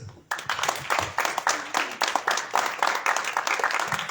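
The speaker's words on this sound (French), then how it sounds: "veuillez applaudir Kemax" An audience bursts into applause for a performer, starting abruptly and continuing as a lively, moderately loud patter of many hands.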